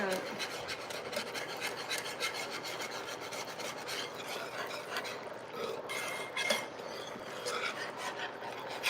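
A drink is whisked inside a cup with rapid, scratchy, repeated rubbing strokes that continue steadily and close up.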